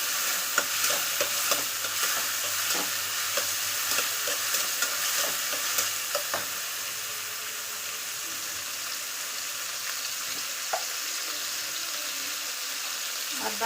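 Onion and tomato with coriander fry steadily in a pan, a constant close sizzle broken by repeated sharp spatula clicks and scrapes during the first half, then a calmer bubbling hiss.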